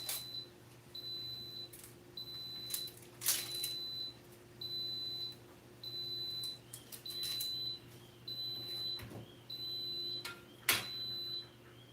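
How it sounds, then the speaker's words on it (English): A kitchen cooker signals that its barley porridge is done with a repeating series of short, evenly spaced electronic beeps over a faint steady hum, with a few soft clicks and clatters nearby. "That was our barley porridge beeping."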